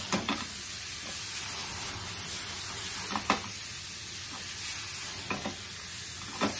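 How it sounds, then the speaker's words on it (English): Chicken breast and mushrooms fry in plenty of oil in a pan, a constant close sizzle broken by a few sharp stirring scrapes. "Bake cut chicken breast. And add cut mushrooms."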